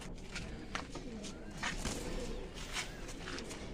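Soft cooing of a female pigeon in a pigeon loft repeats several times over a steady background hum, with faint bird chirps and light shuffling.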